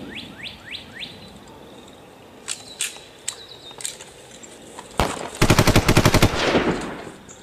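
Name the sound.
machine gun fire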